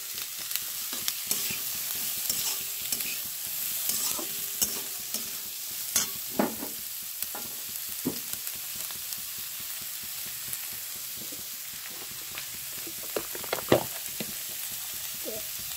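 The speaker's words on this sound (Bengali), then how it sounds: "এটাকে একটু লাল লাল করে ভেজে নেব" Chopped onion and capsicum fry in a pan for pav bhaji, with a soft continuous sizzle broken by frequent scrapes and clacks of a spatula stirring, one louder knock near the end, and no talking.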